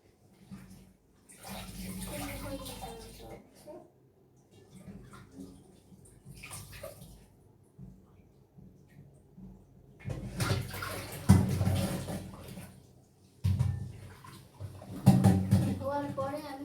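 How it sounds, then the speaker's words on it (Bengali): Ivy gourd leaves being washed by hand in a basin of water, with intermittent splashing and sloshing in bursts, loudest in the second half, alongside a person talking. "আমি হচ্ছে এটাকে ধুয়ে নিব, খুব ভালোভাবে ফ্রেশ করে ধুবো"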